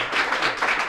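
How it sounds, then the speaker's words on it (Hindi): Classroom applause for school students, a brief burst of dense, steady clapping from a group filling the whole moment. "जोरदार ताली होनी चाहिए बच्चों के लिए"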